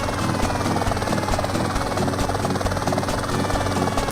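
A helicopter in the open-world game GTA San Andreas gives a loud, steady, close rotor chop and engine roar. It runs unbroken throughout, with no voices.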